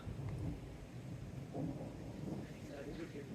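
Distant thunder rumbles low and continuous on the Appalachian Trail, a faint rolling grumble under wind, with someone speaking over it.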